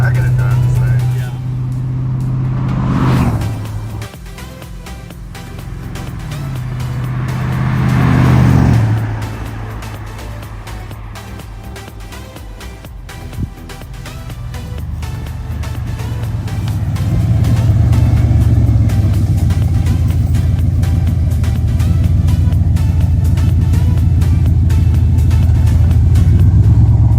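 Engine of a C4 Corvette idling and then pulling away as it is driven, with a low, steady rumble that swells on revving and grows louder toward the end. People talk nearby.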